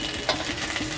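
Semolina stirred and fried in oil in a pan makes a short, close burst of sizzling hiss mixed with gentle scraping.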